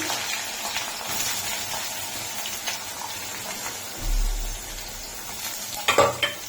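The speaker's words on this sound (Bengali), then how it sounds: "এখন পেঁয়াজটাকে আমি ব্রাউন কালার করে ভেজে নেব।" Chopped onions frying in a pan with garam masala and bay leaves, a steady soft sizzle running throughout with a few clinks and scrapes of stirring near the end.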